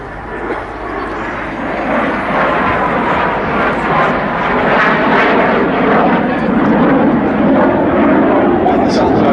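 Two BAC Strikemaster jet aircraft fly past at an air show at Duxford, a loud, sustained jet roar that swells and holds throughout, with a commentator talking over it.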